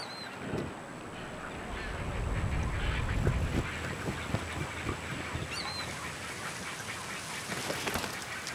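Water birds calling near nests in Brazil's Pantanal wetland, with busy overlapping honks and quacks from a flock, mid-distance and fairly loud above a dense natural background, and no talk.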